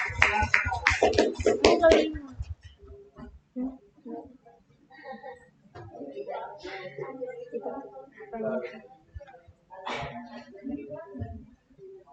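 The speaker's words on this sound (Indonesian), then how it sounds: "Tepuk tangan yang meriah buat juara ya." Audience applause for the winners at a classroom teaching performance session, a burst of loud clapping in the first two seconds, followed by scattered voices and talk.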